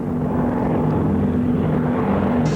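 Military airplanes, likely powered by Pratt & Whitney engines, fly over an air show demonstration area in 1985, producing a loud, continuous engine drone with no voices.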